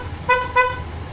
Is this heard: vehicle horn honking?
yes